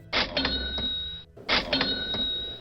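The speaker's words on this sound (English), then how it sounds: "Each time you hear a cash register," A cash register sound effect rings out twice, each a bright bell-like chime with a drawer-slam burst, loud and close with a short gap between them and no voices.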